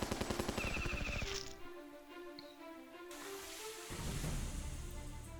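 A machine gun turret firing in the Battle Nations video game, a quick burst of evenly spaced shots at the start, followed by game sound effects.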